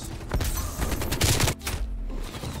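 Rapid AK-47 automatic gunfire in Call of Duty Cold War rattles out in dense bursts, briefly pausing before another short volley.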